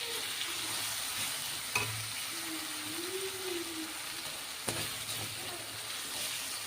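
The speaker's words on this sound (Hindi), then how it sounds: "देखंतु मसला भलसे फ्राई हो जाइए।" Masala sizzling and frying in a pan for a desi chicken curry, a steady close hiss with a couple of brief stirring knocks and faint background voices.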